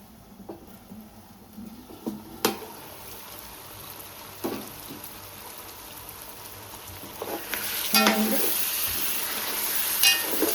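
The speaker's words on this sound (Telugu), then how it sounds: "ఇప్పుడు ఒకసారి తీసి పక్కన పెట్టి కలుపుదాం కూర" Country chicken curry being stirred in a pot, with soft scrapes and knocks of a spoon over a low bubbling sizzle, and a brief louder hiss near the end.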